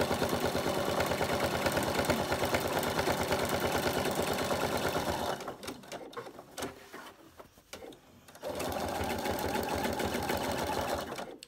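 A sewing machine doing free-machine embroidery, running fast and steady, then stopping briefly with a few small clicks and shuffles before starting up again.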